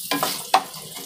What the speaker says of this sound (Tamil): கொஞ்சமாக கருவேப்பிலை, ஒரு 3 பச்சை மிளகாய் சேர்த்துட்டு வதக்கிடுங்க